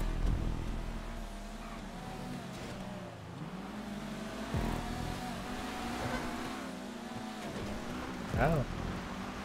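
A rally race car engine in a video game drones steadily with rising and falling pitch as it revs, with a couple of louder bursts, while people talk over it throughout.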